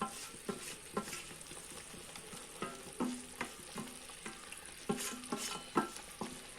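A spoon stirs ladoo mixture in a pan, producing soft repeated scraping strokes in an irregular rhythm over a faint sizzle, quiet and close with no talking.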